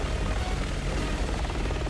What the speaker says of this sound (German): Der Heli greift uns gleich an.